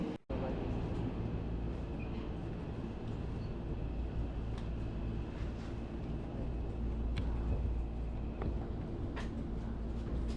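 Steady low rumble of a metro train running between Shinjuku and Tokyo Station, continuous and fairly loud, with a brief dip at the start and faint higher squeals above the constant hum.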